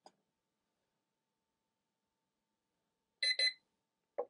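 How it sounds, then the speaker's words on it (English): A quick double electronic beep, high and clean, followed by a short softer blip, with silence around them, from a large digital wall clock powering up. "Okay, we had a beep."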